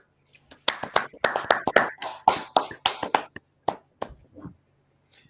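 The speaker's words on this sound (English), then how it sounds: "Please welcome with a strong Jock Brothers round of applause" A small audience welcoming a speaker at a talk on natural birth, giving sparse, irregular applause: separate sharp claps from a few pairs of hands that thin out and stop within a few seconds.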